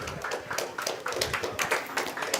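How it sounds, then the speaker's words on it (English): Audience clapping at a tech startup event as a founder is called to the stage, a steady patter of hands from a crowd with no talking over it. "Round of applause to Svetlana."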